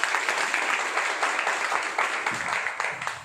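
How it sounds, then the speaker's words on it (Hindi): Audience applause at a Modicare business meeting in a hotel hall, a steady wash of many hands clapping together, fairly loud and sustained for a few seconds with no voices over it. "एक बार ताली बजाओ उस पॉलिसी के लिए"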